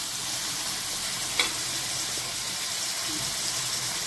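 Tomatoes and drumsticks frying in a pan for an egg curry, a steady close sizzle with a brief scrape of stirring partway through.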